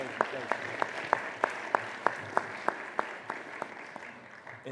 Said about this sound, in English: can we give a round of applause for the judges?